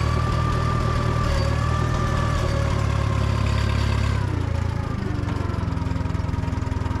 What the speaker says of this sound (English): He fires up this 38 horsepower gasoline powered engine.